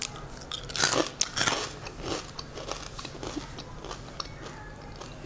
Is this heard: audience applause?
no